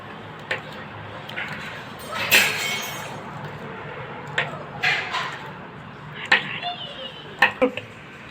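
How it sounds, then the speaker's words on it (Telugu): A knife slices aloe vera leaves into thin pieces, making scattered sharp taps and chops at an uneven pace under a person's steady talking. "ఇప్పుడు నేను ఈ ముక్కల్ని సన్న కట్ చేస్తున్నాను"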